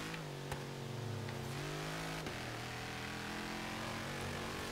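Big front-mounted car engine in Forza Horizon 3 drones steadily and loudly throughout, a deep continuous hum that shifts pitch as revs change midway, with no talking.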